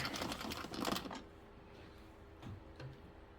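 An Addi or Sentro 22-needle circular knitting machine runs through a row, its busy clicking and rattling clatter loud for about a second before dropping to a low hum with a couple of faint clicks.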